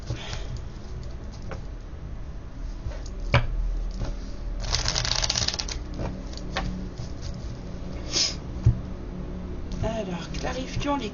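A deck of oracle cards is shuffled close by in quick riffling bursts, with a longer rustling run midway and a few taps, while a voice talks quietly over parts of it.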